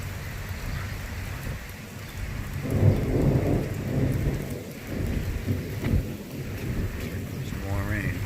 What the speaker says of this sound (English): Some more rain.